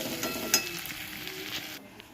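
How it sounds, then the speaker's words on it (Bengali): Chow mein frying in a pan at home, a soft continuous sizzle with a light clatter of stirring near the start, fading to quiet toward the end. "এটা চাউমিনটা একটু দিয়ে দেবো"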